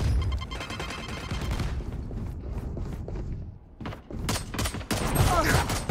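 Rapid bursts of gunfire from the video game Valorant crackle in sharp clustered volleys, with a quieter gap in the middle before louder shots resume, mixed with faint game mechanisms.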